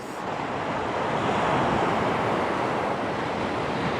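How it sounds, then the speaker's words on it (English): Waves breaking against the rocky shore at Skateraw on the coast, a loud, steady, continuous roar of surf with wind noise and no talking. "while the waves aren't about to sweep my bag away and my tripod away"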